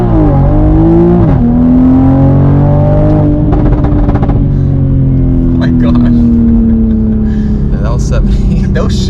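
A 500 hp Toyota Supra with a ZF 8-speed automatic accelerates hard, heard from inside the car. The engine drone climbs and then drops sharply at each quick gear change while a voice talks over it.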